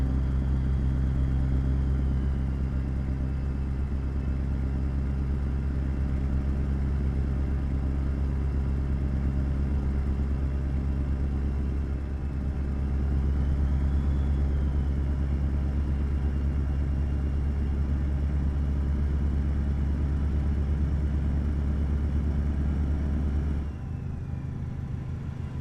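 Scania R series truck engine in Euro Truck Simulator, hauling along a highway: a steady, loud low-pitched drone and rumble that holds for the whole stretch, dipping briefly near the end, with no talk over it.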